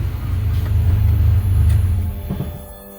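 A 1989 Dodge Raider engine idles with a steady low rumble close by, easing slightly quieter toward the end.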